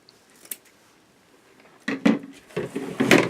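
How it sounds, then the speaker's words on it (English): Scissors are picked up and handled on a tabletop while crafting a Christmas snowman wreath, giving a faint click followed by a cluster of close metallic snips and rattles. "Scissors are right here."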